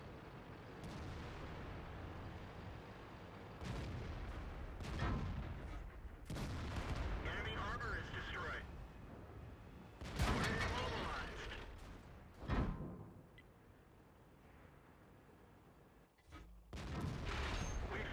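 The main gun of an IS-6 heavy tank fires repeatedly during a World of Tanks battle, heavy booming shots at irregular intervals amid engine rumble, with a voice talking over much of it.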